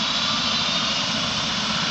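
Rescue helicopter flying at night, a steady, loud engine roar that holds without a break.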